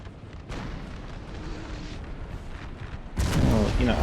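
Artillery fire from an Austrian-versus-Italian battle in Napoleon: Total War, a steady rumbling barrage of booms that swells louder near the end, with a voice talking over it.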